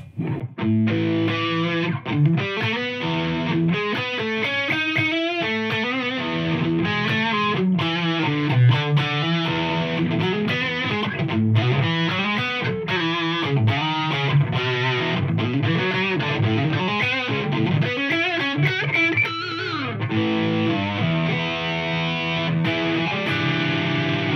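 A distorted electric guitar played through a Boss MDP distortion pedal plays a continuous run of gritty notes and chords, loud and close, with no talking over it.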